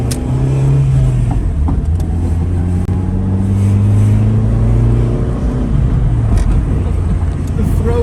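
Ford Escort ZX2 held in third gear, a close, loud engine drone with rising and falling tones as it pulls along the road, with voices talking over it.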